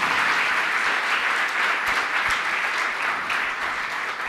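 A large audience claps together for several seconds, a dense, steady burst of applause without a break and no voices on top.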